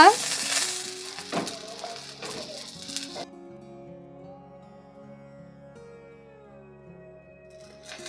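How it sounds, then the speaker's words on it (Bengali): A little oil trickled over a masala dosa on a hot pan gives a brief bright sizzle at the start that fades to a faint hiss, with quiet background music playing underneath. "এবার উপর দিয়ে একটু সাদা তেল দিয়ে দেব যাতে ক্রিসপি"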